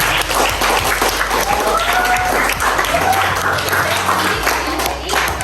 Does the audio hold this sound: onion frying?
no